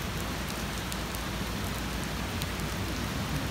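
Continuous rainfall hisses evenly during an outdoor walk, with scattered louder drops ticking against nearby surfaces throughout.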